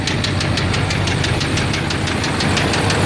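A Duramax LMM diesel engine runs with a bad knocking fault, suspected on cylinder 8. A steady, rapid metallic knock repeats over a loud, constant engine drone, recorded close up and with no voices.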